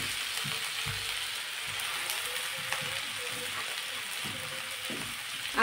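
Amaranth greens (tandulja bhaji) hitting hot oil with garlic and green chili, a steady close sizzle with stirring scrapes and faint clicks throughout, no talk.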